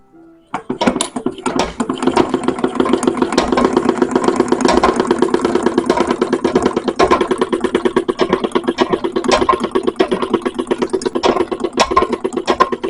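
A treadle sewing machine worked with only one foot clatters with a steady, rhythmic thumping that starts abruptly and continues loudly without a break.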